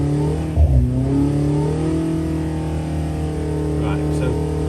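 An Oliver 1040 tractor engine on a dynamometer runs at part throttle with a steady, droning hum that rises slightly in pitch, while someone talks over it close by.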